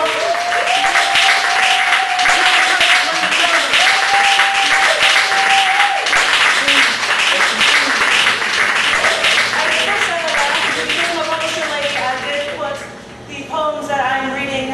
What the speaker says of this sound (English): Please start clapping right now and mean that shit.